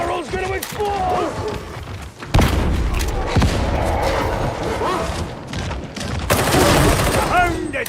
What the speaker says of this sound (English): Barrel's gonna explode!